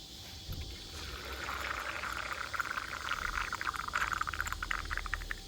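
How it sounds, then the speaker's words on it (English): Tap water pours into a sunroof drain on a Jeep Grand Cherokee WK2, a faint continuous trickle and gurgle running steadily without speech. "So you pour it in here, and then we'll show you where it should be dribbling out"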